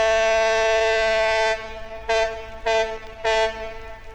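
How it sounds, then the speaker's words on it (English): Loud ship's horn on the River Avon beneath the Clifton Suspension Bridge in Bristol, one long sustained blast followed by three shorter blasts, harmonic-rich and booming with no voices. "That's the sound of a ship on the River Avon as it passes under the Clifton Suspension Bridge."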